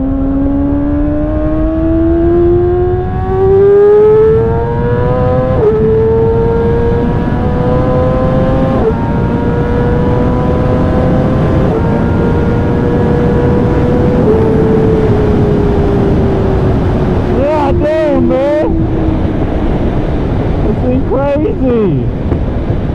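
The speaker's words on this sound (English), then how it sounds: "Did you hear that backfire?" A Yamaha R6 motorbike engine revs loud and close through several rising gear pulls while riding, with wind rush throughout, a few sharp pops near the end, and a voice talking under the engine.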